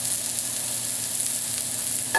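Fresh garlic sizzling loudly while it fries in a pan, a steady hiss with a faint stirring scrape near the end.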